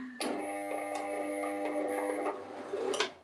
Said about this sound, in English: Sorry, I'm just going to sew.